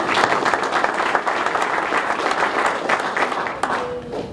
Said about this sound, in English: you can clap again because we don't get enough